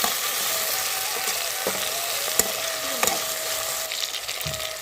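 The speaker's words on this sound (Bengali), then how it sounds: "তারপর আমি দিয়ে দিয়েছি টমেটো কুচি" Chopped tomato frying in hot oil for Bengali hilsa fish curry, a steady close sizzle with small pops and occasional clicks.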